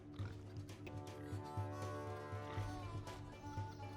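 Quiet, repeated grunting oinks from a pig in the video game RuneScape 3, low and rhythmic over a few seconds, with a faint electronic hum underneath.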